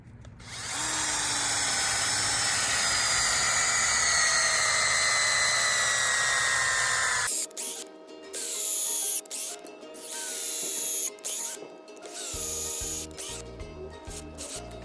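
A power drill runs loudly and steadily for about seven seconds while removing garden shrubs, then continues in short stuttering bursts with brief pauses.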